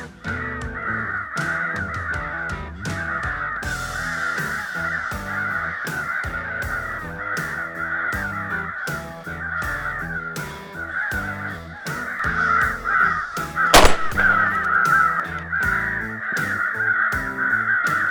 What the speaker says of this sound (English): Let's get some crow calls and see if we can't get some birds in.